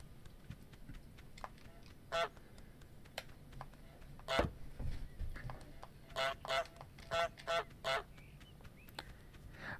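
A goose in Untitled Goose Game gives a series of loud, nasal honks, a few spaced apart and then a quick run of five or six near the end. Soft clicking from a controller or keys sounds in the background.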